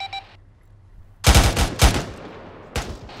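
Gunfire in the military video game ArmA 3, loud close bursts of automatic fire in two quick volleys followed by a shorter burst, after a brief electronic beep and quiet hum.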